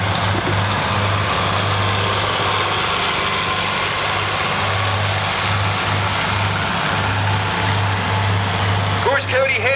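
A 1991 Dodge W250 truck idles steadily at a tractor pull, a low, even engine drone running the whole time beneath loud crowd and announcer noise, with a few sharper sounds near the end.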